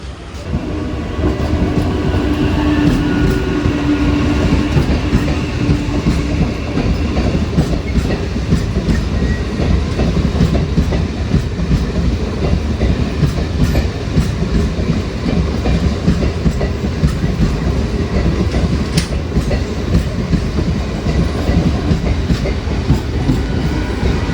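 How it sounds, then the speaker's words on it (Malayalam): A MEMU express train rolls steadily along the Konkan Railway near Mirjan station, its wheels producing a sustained loud rumble with rhythmic clickety-clack over rail joints for the whole stretch. "നമ്മുടെ വണ്ടി വരുന്നുണ്ട്, മെമു എക്സ്പ്രസ്"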